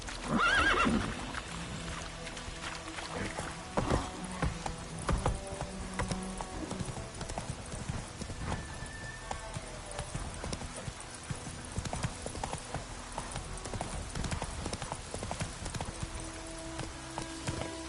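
Roach, a horse in The Witcher 3, gallops in a quick, steady run of hoofbeats that lasts throughout, with a brief whinny near the start.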